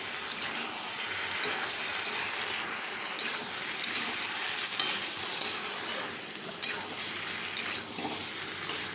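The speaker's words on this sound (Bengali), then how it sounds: "মাংসটা দেখো কষাচ্ছি, কি সুন্দর কালার হচ্ছে না?" Chicken sautéing in a pan with a ginger, garlic and dried chilli paste gives a steady, loud sizzle with occasional scraping stirs, close up and with no talk.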